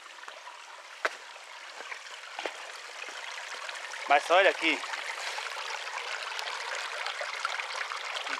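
A stream in the Várzelândia countryside trickles and babbles steadily in the background, fairly quiet, while a person talks over it throughout.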